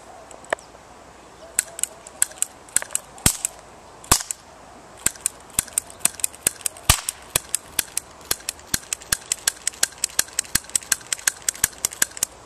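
Rapid gunshots fired at plate targets on a shooting range, a long string of sharp, loud cracks coming in irregular bursts and then a fast, steady rhythm, with no talking.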